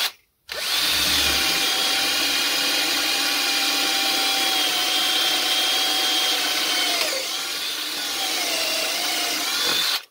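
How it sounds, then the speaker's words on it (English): A 12-volt cordless drill powered by a car battery whirs steadily and loudly for about ten seconds, its pitch dipping briefly near the end before resuming and then cutting off. "Oh, it's definitely drilling."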